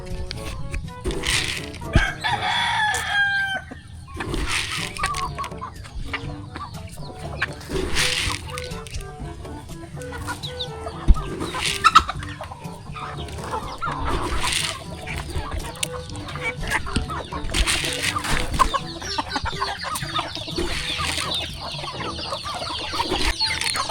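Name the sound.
pet chickens clucking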